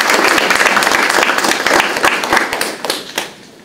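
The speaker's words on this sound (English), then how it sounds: "So if we could give them a round of applause," Audience applause at a spoken-word poetry event, close and brisk with distinct individual claps, loud at first and then thinning out and tapering off near the end.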